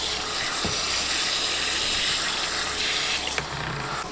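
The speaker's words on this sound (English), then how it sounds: "turn the water back on so it fills up." Water from a hose or shower head pours steadily into a portable mini washer, a continuous close hiss and splash with a couple of brief clicks and knocks.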